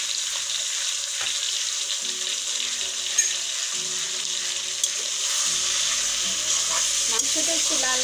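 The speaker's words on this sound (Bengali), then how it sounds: "মাংসগুলো ভেজে নিচ্ছি।" Broiler chicken pieces sizzle and fry steadily in hot oil for a spicy kosha curry, with occasional stirring scrapes and clinks of a spoon against the pan throughout, close and continuous with no talking.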